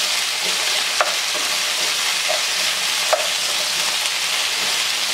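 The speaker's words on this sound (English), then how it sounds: "So just mix your potatoes around." Potatoes stirred in a pan on a burner set to medium-high, giving a loud even sizzle with a couple of soft scrapes and clicks from the utensil, no speech.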